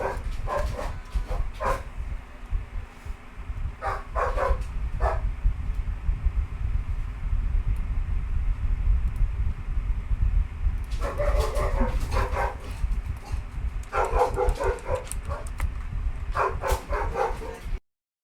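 A dog barks and whimpers in short bursts of yips and whines close by, recurring in clusters over a steady low background hum, with no speech.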